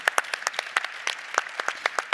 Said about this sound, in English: I think they deserve a round of applause, all of them, right?